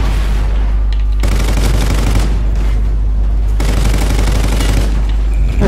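Assault rifle gunfire in Call of Duty Ghosts, loud rapid bursts of automatic shots in long sustained strings with a couple of brief pauses, heavy and close.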